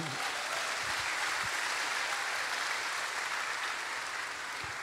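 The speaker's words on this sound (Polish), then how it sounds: "Brawa dla kolegi." A big festival crowd at a Woodstock festival meeting gives a colleague a round of applause, a thick, continuous wash of clapping that fills the whole stretch at constant strength.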